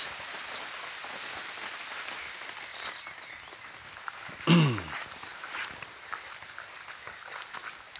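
Steady rain patters down continuously on surfaces, a dense soft hiss throughout with one brief louder splash or knock midway.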